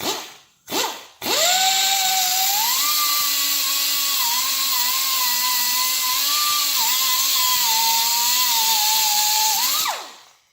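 A power tool cutting through a Yamaha WR250R motorcycle chain starts with two short bursts, then grinds steadily and loudly for about eight seconds, its pitch wavering slightly before it winds down.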